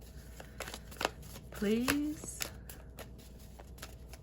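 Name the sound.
shuffling tarot cards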